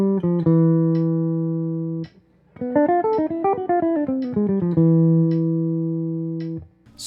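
A jazz trumpet solo, a bright, clean horn line of sustained held notes broken by a quick run of short, stepping phrases, played alone at steady volume with no talking.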